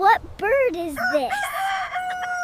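A rooster crows a full cock-a-doodle-doo, loud and close, as one rising and falling call with a long held final note, and a voice speaks briefly just before it.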